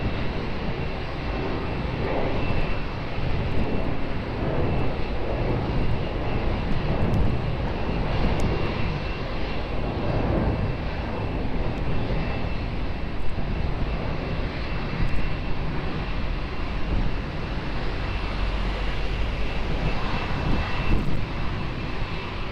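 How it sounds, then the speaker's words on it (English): An Emirates airliner goes around at Lisbon Airport, its jet engines roaring loud and broadband for over twenty seconds in a sustained, powerful rumble with no voices. "Emirates 3 Mike Victor going around"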